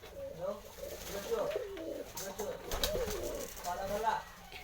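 Domestic pigeons kept for sale coo in soft, repeated rolling calls, close by on a rainy day, while a voice talks faintly over them.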